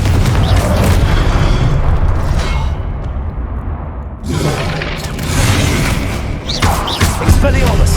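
Fiery Confringo spell blasts in Hogwarts Legacy, a loud booming burst with crackling debris, several impacts in a dense game mix, with a sharp renewed blast partway through.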